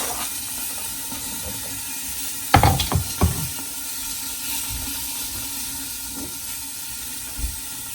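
Chopped onions and green peppers land in a pan of about two tablespoons of hot oil, giving a sudden loud sizzle and clatter that settles into a quieter steady hiss over low background hum.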